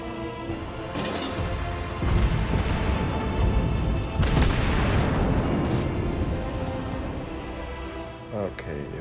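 Secondary guns on the battleship Musashi fire in World of Warships Blitz ranked play, with repeated booming bursts and rumbling impacts rolling together over several seconds beneath a continuous battle din.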